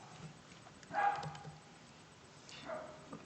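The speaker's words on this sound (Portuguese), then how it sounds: "A Nina latindo." A dog gives a couple of faint, distant barks, one sharper yip near the start and a softer bark a moment later, against quiet background noise.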